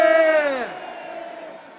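A crowd at a March 1st Independence Movement Day rally in Myeongdong shouts "manse" in unison, a single loud drawn-out voiced cry that falls in pitch and trails into a diffuse crowd roar.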